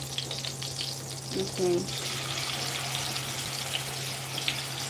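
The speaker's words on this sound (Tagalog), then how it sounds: "So now, we need to fry a little bit. Slightly brown din natin itong mga chicken." Chicken pieces fry in a pan for a home-cooked chicken curry, giving a faint steady sizzle under a low hum. A person speaks briefly near the middle.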